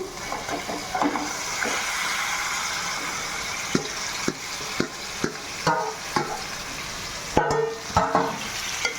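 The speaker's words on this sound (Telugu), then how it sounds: "ఇప్పుడు ఈ చికెన్ దీంట్లోకి వేస్తున్నానండి" Chicken pieces go into a curry pan and fry with a continuous close sizzle, punctuated by repeated sharp clacks and scrapes of a spoon stirring against the pan; no voices.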